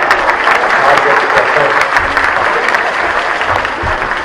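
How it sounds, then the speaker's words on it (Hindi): Thunderous audience applause greets a Hindi comic poet on stage at a kavi sammelan, a dense, steady wash of clapping filling the whole stretch with a faint voice underneath. "मेरे स्वागत में आपने जो घनघोर तालियां बजाई हैं"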